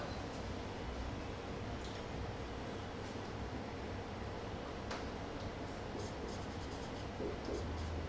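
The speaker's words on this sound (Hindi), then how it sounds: "मैं एक सेंटेंस लिखता हूं।" Chalk or marker writing a sentence on a classroom board, steady faint scratching strokes under a constant hiss, with a few sharper taps scattered through.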